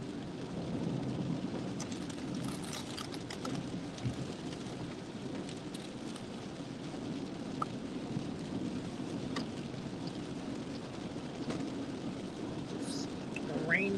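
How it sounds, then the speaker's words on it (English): Steady rain drums and hisses around a vehicle driving through a winter storm, a constant broadband wash with occasional faint ticks and rumbles, carrying on evenly with no break. "The rain continues."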